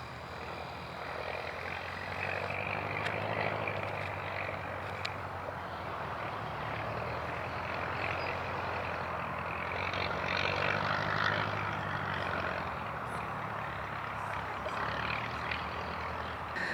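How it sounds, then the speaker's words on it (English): A propeller plane approaching to land at Popham Airfield near Winchester, heard from a campsite beside it: a steady, moderately distant engine drone that holds level and swells slightly midway through, with no voices. "there's a plane coming in"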